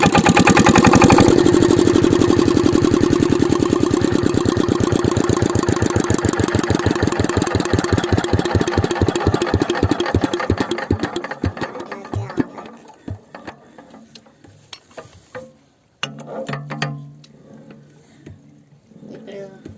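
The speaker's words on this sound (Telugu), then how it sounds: "ఇంజన్ ఆన్ అవటం స్టార్ట్ అయింది." A Kirloskar diesel pumpset engine starts and runs loud and close with rapid regular thumping that slows and fades out, followed by quieter clanks.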